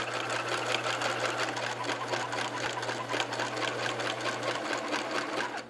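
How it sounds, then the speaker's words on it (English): Up close, a sewing machine chatters steadily as it stitches fabric for a birdseed-filled juggling ball, a fast even needle rhythm over a low motor hum, with no speech. "you're sewing between the seam and the edge of the material so that you don't let any birdseed get out of the ball"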